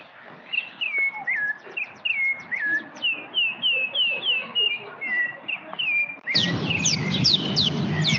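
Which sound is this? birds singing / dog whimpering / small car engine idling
birds singing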